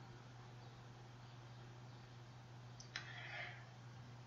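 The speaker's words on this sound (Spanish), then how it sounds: "Hacemos clic con el botón izquierdo" A single faint click of a computer mouse's left button sounds late, over a steady low electrical hum.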